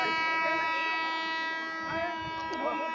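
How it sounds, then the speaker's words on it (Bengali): An arriving train sounds a long, steady, multi-toned horn that holds for the whole moment while a crowd's voices murmur beneath it. "সাইরেন বাজিয়ে বাজিয়ে ট্রেন আসছে।"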